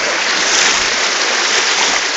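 Loud, steady rush of flowing water from the Ey'in Tina stream in the Guytatt area of the Golan Heights, a continuous close wash running between volcanic rocks with no voices.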